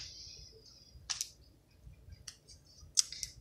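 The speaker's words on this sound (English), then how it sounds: "And the sticker's coming off." A sticker peeled off by hand: two or three short, crisp tearing crackles spaced a couple of seconds apart, close and fairly quiet over a low background hum.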